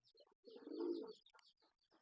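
Pigeons on a rooftop at a pigeon farm give a soft, rolling coo lasting under a second, with a few faint chirps and rustles before and after in an otherwise quiet setting.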